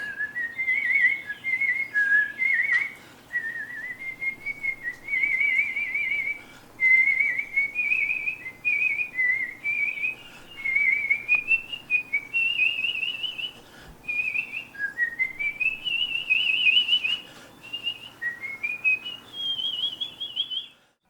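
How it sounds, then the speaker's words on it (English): A person whistles a lilting melody, clear and close, phrase after phrase with short pauses between, for about twenty seconds. "she's gonna whistle a few songs for us"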